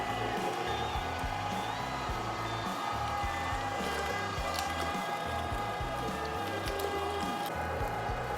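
An electric meat grinder fitted with a 10mm die works cold meat for summer sausage, giving a steady, loud motor hum with a continuous churning, squishing texture and a faint high whine throughout.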